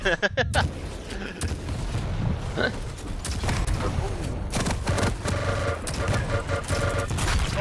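Rapid bursts of weapon fire in a Quake arena duel, with rocket launcher shots among dense gunfire, booms and mechanical clatter running throughout, while commentators talk over it.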